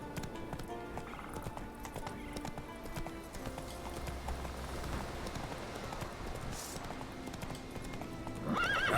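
Roach the horse galloping in The Witcher 3, with steady rapid hoofbeats, whinnies and snorts, loud and continuous throughout with game ambience beneath.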